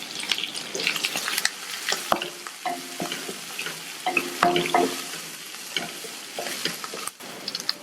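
Onion, slit green chillies, curry leaves and sliced garlic sautéing in a pan, a steady close sizzle broken by repeated scraping stirs and clinks of the spatula, with no voices.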